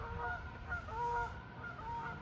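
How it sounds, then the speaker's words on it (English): Geese honk in a short series of faint, distant calls over a low background rumble, with no voices. "It's the geese."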